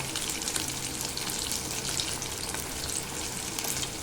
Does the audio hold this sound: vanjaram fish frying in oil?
yes